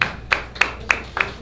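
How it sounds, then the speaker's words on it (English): Hand claps greet retiring racer Bill Reichert at a drag-racing event: about five sharp, separate claps in an even rhythm, fairly close and moderately loud, with no full crowd roar. "have a nice round of applause for one of the greats in our sport"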